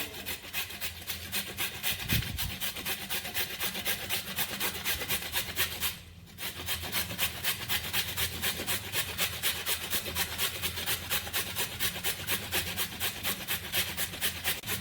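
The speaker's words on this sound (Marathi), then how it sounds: "गाजर किसून घेवया." Carrots are grated by hand for a Konkani koshimbir salad, a steady rapid rasping rhythm of strokes scraping against the grater, close and continuous with one brief pause.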